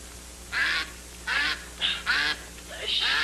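Several short bursts of nasal duck quacking in quick succession over a steady background hum.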